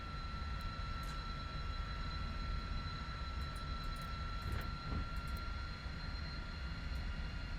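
A Lockheed T-33 jet engine in Microsoft Flight Simulator gives a steady, even whine and hum that drones without pause and shows no clear rise in pitch.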